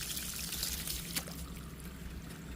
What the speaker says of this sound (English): I'll pour water over it